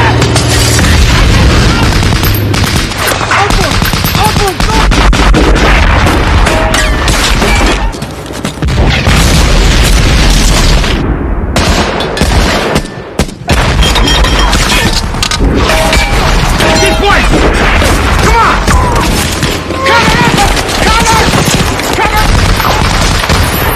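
A film battle has a German tank attacked with sticky bombs. It brings loud, dense explosions, crashes and bursts of gunfire in a near-continuous barrage, with only brief lulls.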